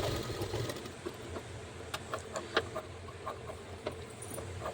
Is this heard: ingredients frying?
no